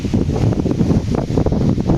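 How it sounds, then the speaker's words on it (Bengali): Strong pre-storm wind buffets the microphone in a village in loud, low, gusting rumbles that swell and fade continuously, with no voices. "বাতাস আছে প্রচুর কিন্তু বৃষ্টি হচ্ছে না"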